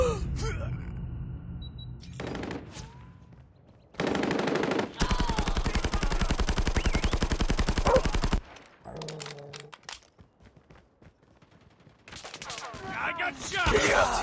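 Automatic weapon fire in the Call of Duty Mobile shooter game on the Crash map, with long loud sustained bursts in the middle, shorter rattling volleys around them, and a faint voice between shots.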